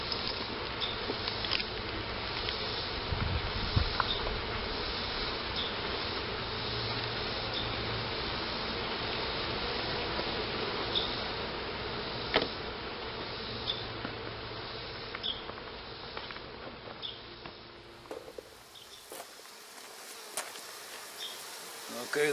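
Honey bees buzz densely and steadily around an open beehive during a honey harvest, a close, continuous drone that thins toward the end.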